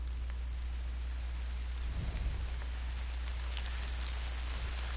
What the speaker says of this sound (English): Even plants are affected by the damn rain.